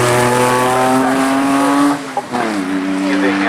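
Rally car at a club rally in East Riding, engine roaring loud and close with strong harmonic whine, pitch falling as it passes, then a brief gear change before powering away.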